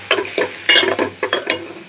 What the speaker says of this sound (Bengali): চিংড়ি মাছটা আর পেঁয়াজটা ভাজা ভাজা হয়ে গেছে